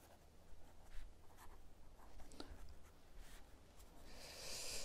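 A pen scratches across paper close up, in short strokes with brief pauses, quiet and steady under a faint background hum.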